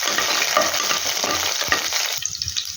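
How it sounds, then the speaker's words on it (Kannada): Curry leaves and chillies fry in hot oil for chitranna, a loud continuous sizzle with crackling spatters and pops, close up, with a stirring scrape near the end and no voices. "ಈಗ ನೆಕ್ಸ್ಟ್ ಕರಿಬೇವು ಹಾಕ್ಕೊತಿದ್ದೀವಿ. ಮತ್ತು ಸಿಡಿಯೋ ಚಾನ್ಸಸ್ ಇರುತ್ತೆ"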